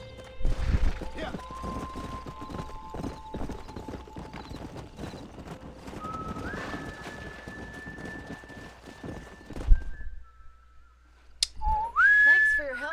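Horses in the video game Red Dead Redemption trot with rhythmic hoof clip-clops and snorts, joined by whistled melodic tones and a closing whinny-like cry over soft background music.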